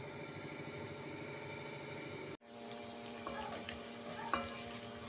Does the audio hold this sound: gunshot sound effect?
no